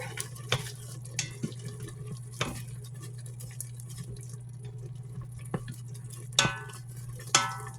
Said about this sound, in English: Give our seasonings a little mix in there.